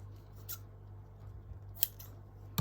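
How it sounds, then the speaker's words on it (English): Scissors snip stray thread ends on a hand-stitched fabric heart piece, giving a few sharp, close clicks spaced apart against a quiet room with a low steady hum. "I'm just going to trim those little stray ends."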